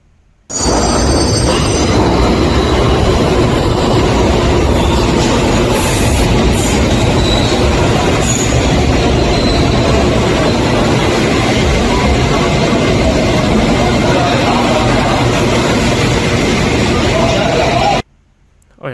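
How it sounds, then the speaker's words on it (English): Beijing Subway Line 1 train running through its tunnel under central Beijing, a loud, continuous rumble with rattling wheels and faint squeals that ends abruptly, with speech mixed in underneath. "this is China's very first subway line"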